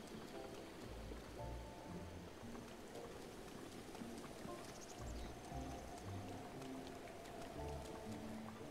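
Rain falling in a Zelda adventure game, a soft continuous patter of drops heard faintly beneath gentle in-game music tones.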